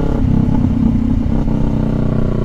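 A motorcycle fitted with an S&S slip-on exhaust idles and rumbles steadily at close range, a deep throaty exhaust note with slight rhythmic variation, no voices.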